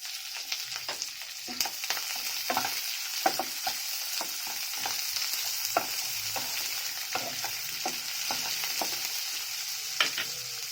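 Chopped onions fry with a steady sizzling hiss in a pan, broken by frequent scraping stirs of a spatula at an uneven rhythm.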